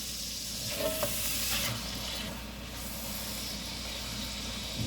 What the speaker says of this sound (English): Turn the fire up so it can sear that side.